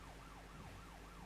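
Police siren in the video game Mafia 3, a steady rising-and-falling wail repeating about every quarter second, loud and continuous with no talk.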